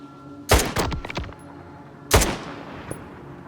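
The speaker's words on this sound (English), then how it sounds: "a loud-ass gunshot and they didn't notice?" Two loud 5.45 rifle shots go off in the shooter Stalker 2, about one and a half seconds apart. Each sharp crack is followed by a rattling echo tail, with no speech.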